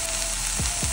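Onions, tomato, turmeric and roasted cumin powder sautéing in a pan, a close, steady sizzle with a couple of brief scraping stirs.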